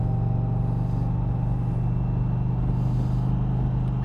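A 2020 Indian Challenger motorcycle cruises along under a steady, close, low engine drone with a constant rumble and no talking.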